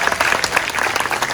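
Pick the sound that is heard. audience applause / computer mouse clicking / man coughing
audience applause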